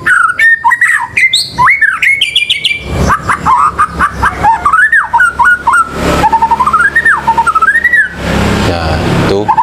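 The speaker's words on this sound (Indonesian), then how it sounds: "Jadi enggak kita kasih folding pun burung sudah gacor ya, sudah gacor dia." A caged Indonesian songbird from the forest sings loudly and continuously, a busy stream of rapid chirps, whistled phrases and squawky trills close to the microphone with no talking.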